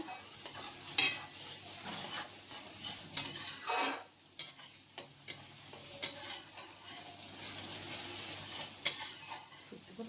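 Ginger garlic paste stir-fried in a pan for Bengali prawn malai curry, with a soft sizzle under intermittent clicks and scrapes of a spoon against the metal, fairly quiet and close.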